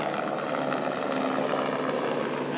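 A new Airbus A350 airliner descends toward landing in Fiji, its engines giving a steady, broad roar from some distance that holds constant without break.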